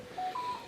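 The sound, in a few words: mobile phone going off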